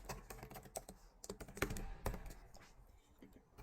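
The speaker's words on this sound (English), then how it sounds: "So I'm just going to type in like this" Rapid typing on a computer keyboard while entering text into an ad copy generator, a steady run of close, crisp key clicks with a few louder strokes, no voices.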